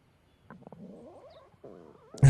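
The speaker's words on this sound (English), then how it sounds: "Classic anime stomach growl." A cartoonish stomach growl from an anime episode gurgles in a wavering low rumble lasting about a second and a half, fairly quiet, ending in a sudden louder thump.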